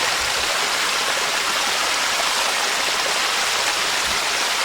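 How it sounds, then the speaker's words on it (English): Waterfall spilling over a stream that runs along the Appalachian Trail gives a steady, loud rushing wash of water, continuous and unbroken with no voices. "now we have this beautiful waterfall"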